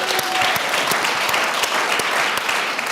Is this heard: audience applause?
yes